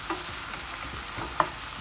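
Bacon lardons browning gently in a pan make a soft, even crackle, with a couple of brief utensil taps, one sharper near the end; no voices.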